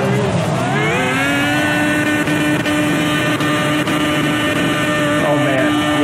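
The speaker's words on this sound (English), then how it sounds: "the rev limiter sounds a little iffy" A racing car engine in Project CARS holds high revs against the rev limiter, a loud, steady harmonic whine broken by brief rhythmic cut-outs, with wind rush mixed in.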